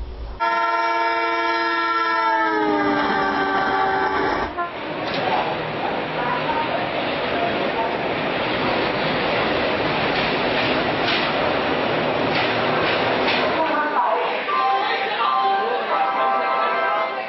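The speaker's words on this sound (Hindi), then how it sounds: "दिल्ली सराय रोहिला से चलकर बांद्रा तक के जाने वाली ये ट्रेन है गरीब रथ।" Garib Rath passenger train from Delhi Sarai Rohilla to Bandra blasts a loud, sustained horn, then rumbles steadily past close by for over ten seconds before the noise drops away at the end.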